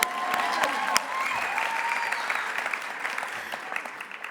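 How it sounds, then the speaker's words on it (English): Audience applause for a student at a CASA graduation ceremony, steady, moderately loud clapping from a crowd throughout, with a few sharper claps standing out. "Applause for me."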